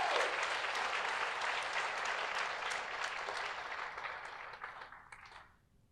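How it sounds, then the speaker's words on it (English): A round of audience applause at a drug overdose and prevention vigil, steady and fairly soft, dense clapping that gradually fades and stops near the end. "Let's give her another round of applause."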